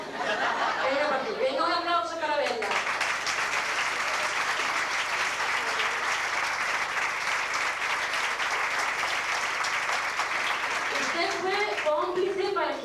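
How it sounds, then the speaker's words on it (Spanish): A festive Valencian falla audience breaks into loud, sustained applause for Bella, the 1997 madrina, filling roughly ten seconds between brief speaking voices at the start and end. "venga un aplauso para Bella"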